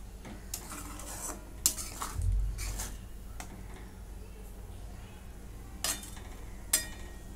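Konkani-style chana masala being stirred in a pan: scattered scrapes and light clinks of a spoon against metal, close but soft, over a steady low background hum, with no talking.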